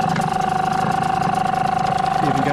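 A Hangkai 6hp 2-stroke outboard motor runs at idle in water after being throttled back, a steady, loud, buzzy putter with a slightly uneven rhythm and a constant high whine running through it.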